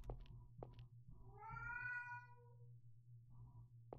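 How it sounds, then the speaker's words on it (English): A cat meows in the horror video game The Crooked Man, a single drawn-out, wavering cry at mid-loudness over a steady low hum, with faint clicks before and after. "Is that a cat?"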